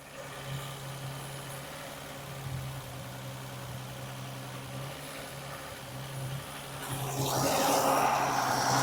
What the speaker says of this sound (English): I cannot work out if that engine is knocking or if it's pre-ignition